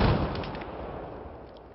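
Grenade blasts and gunfire in a 5v5 Domination match on the Dawnbreaker map, a loud low boom at the start decaying into a rumbling wash with faint, scattered crackling shots behind it.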